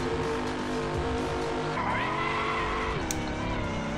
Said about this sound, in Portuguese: Ele cantou pneu pra caramba ali.